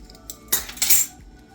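A utensil scraping and clinking against a pot while xanthan gum is stirred into a low-boiling keto cake filling, a short burst of close metallic scrapes with no talking.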